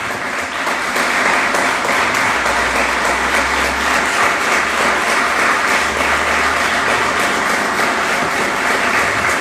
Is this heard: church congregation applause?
yes